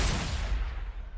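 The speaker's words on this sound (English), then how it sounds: "take the flank pot shots here with the las cannon" A single las cannon shot in Warhammer 40,000: Sanctus Reach lands as a brief, heavy burst with a deep low rumble that quickly decays.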